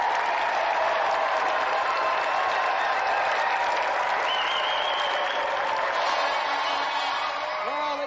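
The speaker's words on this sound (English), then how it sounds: "Let's give another round of applause there for Craig and Kirsty Monroe!" Loud studio audience applause on a video-game TV show, dense continuous clapping with scattered cheers and whoops running the whole stretch without a break.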